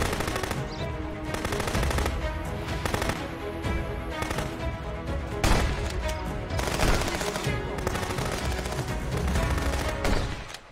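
Sustained gunfire from the video game Contraband Police, with rapid automatic bursts and single shots overlapping in a dense, loud, nearly continuous barrage for the whole stretch.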